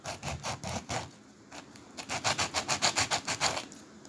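A scale toy tractor part is rubbed back and forth on sandpaper, close scratchy strokes, first irregular, then a quick even run of about a dozen rhythmic passes.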